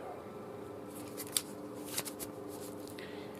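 Oracle cards shuffle and are drawn by hand, soft papery rustling with a couple of brief snapping flicks, quiet and close.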